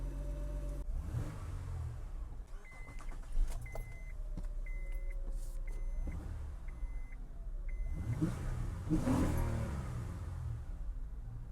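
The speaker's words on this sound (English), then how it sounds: "I'm gonna make sure there won't be issues with the truck at idle and at higher RPM." A Honda Ridgeline pickup engine idles with a low rumble through a repaired muffler and exhaust, then revs up a couple of times, with a few clicks and light clatter nearby.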